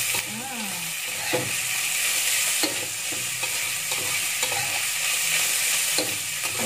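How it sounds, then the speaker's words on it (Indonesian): Food frying and sizzling in a pan after granulated sugar is added, stirred with a spatula that scrapes and clacks in irregular strokes over a steady, loud sizzle. "Kita aduk lagi."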